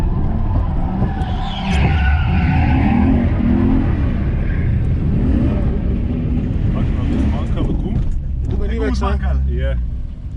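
Drift taxi car skidding with burning tires, a long loud continuous screech over a roaring engine, close by, with a voice speaking toward the end.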